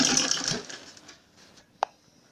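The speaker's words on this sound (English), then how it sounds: "you make sure you sew very close to the edge of the material." A home sewing machine stitches around the layered fabric edges of a diaper bag, running loud and close at first, then slowing and fading, followed by a single sharp click.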